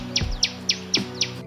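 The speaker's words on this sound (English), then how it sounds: "Tailor bird, darji pakshi, tuntuni" A tailor bird calls five sharp, high chirps in quick succession, each a short downward-sweeping note, close and clear with nothing else heard.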